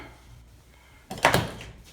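A door pulled shut by a door closer on a preparation table or cabinet gives a single nearby thud and rattle that rises sharply and fades over about a second, with nobody speaking.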